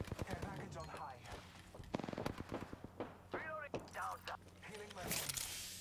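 Rapid bursts of gunfire from an R99 submachine gun in the video game Apex Legends, sharp repeated shots in quick clusters mixed with game effects, while a player talks over the action.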